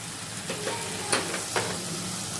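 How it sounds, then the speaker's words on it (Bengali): Mushroom masala frying in a pan as turmeric powder goes in, a steady close sizzle broken by a few soft stirring scrapes and light clicks, no voices. "এখানে আমি হলুদ গুঁড়ো দিচ্ছি"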